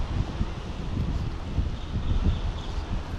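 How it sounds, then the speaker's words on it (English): Steady gusting wind buffets an open pond during fly fishing, a dense, continuous rumble of close microphone wind noise with no talk. "wind's picking up too"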